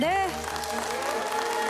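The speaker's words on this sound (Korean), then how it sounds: "지지서 학생들에게 큰 박수 보내주시기 바랍니다." Audience applause for middle school students at a televised reading and debate competition final, a brief burst of clapping that follows a short spoken word and continues under a tonal background.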